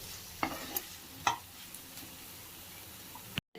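Tomatoes and turmeric stirred in an oiled pan for an Odia prawn and vegetable curry, with a few scraping clinks of the spoon over a low, steady sizzle, close and alone.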